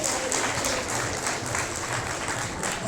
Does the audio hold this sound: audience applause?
yes